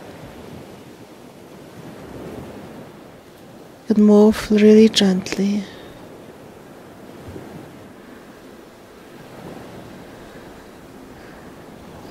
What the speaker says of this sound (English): slowly swing with this ocean's waves